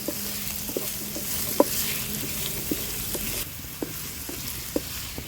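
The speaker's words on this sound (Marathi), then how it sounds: "बारीक चिरलेले हे दोन कांदे आपण घेतले ते ॲड करूया कांदा पण तेला छान परतून घ्यायचे आपल्याला" Finely chopped onions sauté in hot oil with ginger-garlic in a pan over a wood-fired stove, giving a steady broad sizzle broken by occasional light stirring knocks, close and continuous with no talking.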